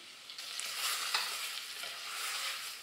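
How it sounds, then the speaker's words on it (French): Pears caramelizing in a saucepan for a charlotte are stirred, giving a steady bright sizzle with scraping spoon strokes throughout. The sound is close and moderately quiet, with no talking. "Et on va venir remuer. Voilà, et on va laisser caraméliser un petit peu."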